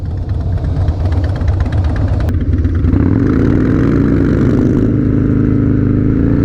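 A Harley motorcycle engine runs smoothly nearby, a steady loud idle whose rumble shifts slightly in pitch partway through, with no talking.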